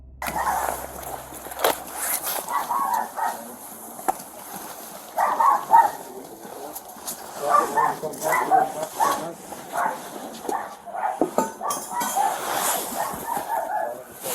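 Two dogs inside a house bark and yip in scattered bursts, somewhat muffled and distant, mixed with people talking and movement noises.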